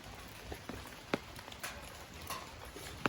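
Rain falling outdoors during cooking of saltfish fry dumplings, a faint steady patter with a few sharper drops and small knocks scattered through.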